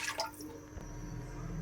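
Water poured from a glass into a cooking pot for making rice, a short splashing pour that settles into a steady low trickle, faint and close with no talk.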